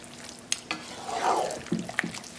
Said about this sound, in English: Again, we're going to give it a good mix.